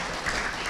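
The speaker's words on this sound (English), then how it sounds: "let's give her a round of applause" Brief burst of audience clapping at a school fall sports assembly, a short steady patter of many hands in a gym-like room.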